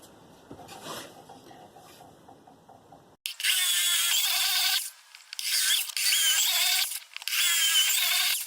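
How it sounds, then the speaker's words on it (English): A power drill bores bolt holes for a solar roof rack on a bus, after quieter handling noise come three loud, close whining bursts separated by brief pauses. "when I drill these out"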